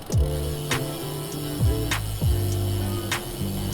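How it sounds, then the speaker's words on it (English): Bicycle wheel hubs tick loudly while riding through Seoul, a rapid ratcheting buzz with short sweeping bursts recurring roughly every half second to second, close to the microphone. "Apologize for my super loud wheels hubs"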